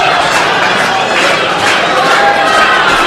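A wrestling crowd at an ECWA Super 8 Tournament match cheers for Ty Awesome in a continuous, loud, dense roar of massed voices with no break.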